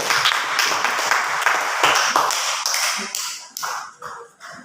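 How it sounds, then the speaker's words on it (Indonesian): Students in an Indonesian classroom applaud a presenting group, a close burst of many hands clapping that thins into a few scattered, separate claps as it dies away. "Tepuk tangan untuk kelompok 2."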